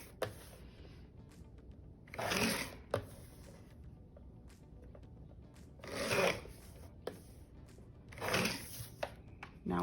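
Scissors cut blue and green star-patterned paper in three separate bursts of crisp rustling snips, close and quiet, with small clicks and handling sounds between them.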